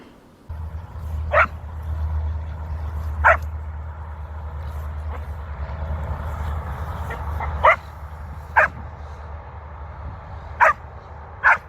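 A dog barks on command during a training session, giving about seven sharp, separate barks at uneven intervals over a steady low hum. There is no talking.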